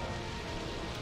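Steady rain falls in the video game Pokémon Colosseum, a continuous dense hiss that stays even and moderately loud throughout without breaks.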